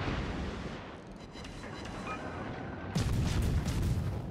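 Warship main guns firing in the naval game World of Warships, a low rumbling barrage of muffled booms that swells into a louder, heavier volley in the last second and a half.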